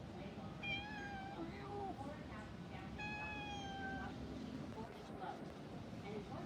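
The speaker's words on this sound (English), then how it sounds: "The cat belongs in there, but the cat rules." A cat in an assisted living facility gives a few drawn-out meows, two clear calls standing out faintly over a low background hum.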